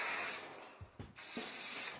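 Johnny's Chop Shop Power Hold hairspray sprayed from an aerosol can at arm's length, giving two long, steady hissing bursts separated by a brief pause filled with faint handling knocks.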